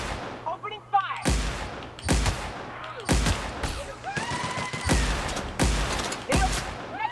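Repeated bursts of gunfire from an Outer Worlds firefight, loud broadband blasts coming in clusters roughly every second, with short gaps and some voice underneath.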